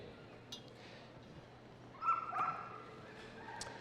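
Police dogs at a West Midlands Police display at Crufts give a brief burst of yipping and whimpering near the middle, over a steady crowd-hall background with faint hum.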